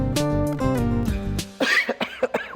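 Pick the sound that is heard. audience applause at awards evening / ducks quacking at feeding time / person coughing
person coughing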